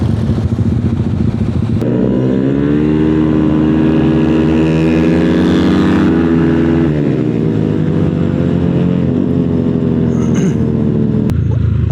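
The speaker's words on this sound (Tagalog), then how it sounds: "Dami nakamotor oh." Many motorcycles ride by on a cool evening, their engines swelling into a loud, close, rising and falling drone that lasts about ten seconds, with a sharp clack at the start and another near the end.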